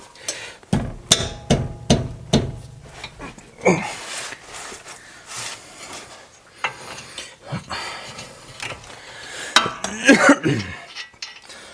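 Sharp metallic clanks and ratchet clicks come in bursts as 17mm caliper bracket bolts are loosened on the front brakes of a 2015 Toyota RAV4 Limited, close and intermittent with quiet gaps.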